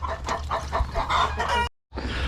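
Chickens cluck in a rapid, repeated run on an Aussie-owned farm in the Philippines, fairly close and loud over a steady low hum, cutting out briefly before resuming.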